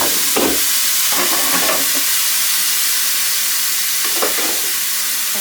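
Onions sizzling and frying in a home kitchen pan, a steady broadband hiss with a few brief clatters of stirring near the start and again around four seconds, no voices.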